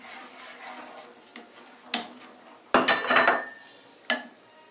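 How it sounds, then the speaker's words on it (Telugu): Roasted Bombay rava (semolina) stirred steadily in a metal pan for rava kesari, with a spoon scraping and clinking against the pan in uneven strokes and some louder knocks, close by. "ఇప్పుడు ముందుగా వేయించుకున్న బాంబే రవ్వని కొద్ది కొద్దిగా వేసుకుంటూ కంటిన్యూస్గా కలుపుతూ ఉండాలి"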